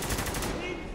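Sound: gunfire in the video game Spec Ops: The Line

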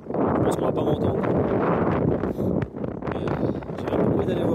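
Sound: strong wind

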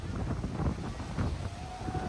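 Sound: strong wind at a beach in Japan

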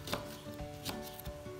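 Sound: chopping vegetables with a knife

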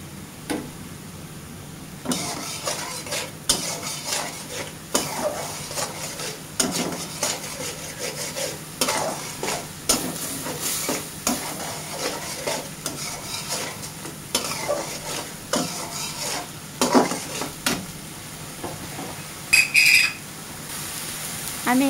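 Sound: cumin powder frying and being stirred in a pan

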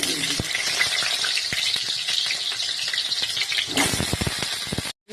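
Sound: oil heating and sizzling in a wok

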